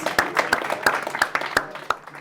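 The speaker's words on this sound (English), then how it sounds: "So give the Vice Presidents of Welfare a big clap and all the other candidates." Audience applause for student guild election candidates at vice-presidential hustings, a brisk patter of many hands clapping in an indoor hall, fairly close and steady with some uneven bursts.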